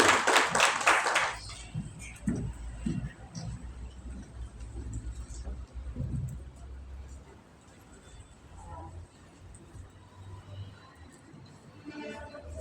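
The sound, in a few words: audience clapping as a speaker comes up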